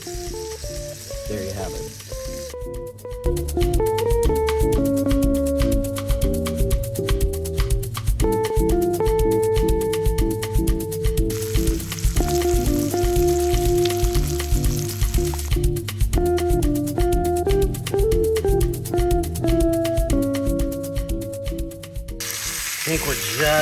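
Steak sizzles on a new camping grill with a continuous frying hiss, punctuated by clicking and scraping mechanical sounds, while a person talks briefly.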